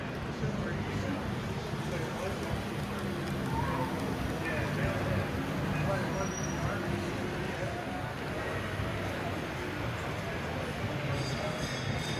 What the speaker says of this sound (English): There's a train coming out right here.